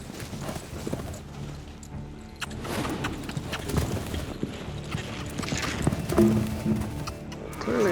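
Ranch horse running through a jump course at a cowboy competition, hooves drumming in a fast, uneven clip-clop that stays close and steady, with occasional clatter and background noise throughout.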